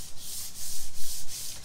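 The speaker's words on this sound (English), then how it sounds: "It's very light sanding, just to kind of rough that up just a little bit." Wood on an old hutch gets a light rub with 220-grit sandpaper, four or five quick back-and-forth strokes sounding as close, rhythmic scratchy swishes with nothing else heard.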